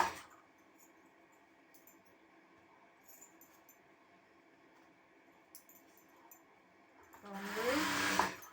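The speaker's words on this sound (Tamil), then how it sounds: "இப்போ ரெண்டுத்தையும் ஈவனாக வச்சு தையல் அடிக்கிறேன்." A sewing machine stitches a blouse front piece and its lining together, giving a steady, fairly faint motor whir for several seconds before a louder, brief rush of noise near the end.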